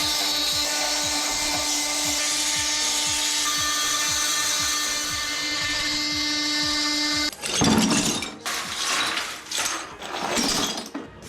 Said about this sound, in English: So I might have to just grind that with my multi-tool.